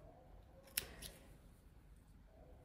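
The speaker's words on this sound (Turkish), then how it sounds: "ipimi artık burada kesiyorum" Scissors snip through crochet yarn on a handmade filet vest: one sharp close click with a faint second snap, set against quiet room hiss.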